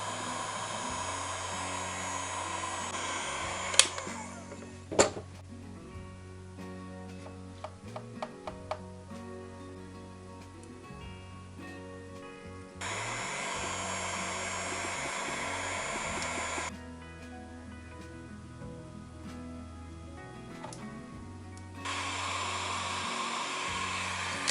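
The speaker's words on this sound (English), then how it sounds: "I'm going to grab my heat gun and I'm just going to blast it with it" A heat gun blasts hot air onto a paper pad in two long, steady roaring stretches, separated by quieter handling clicks and taps, with no talking.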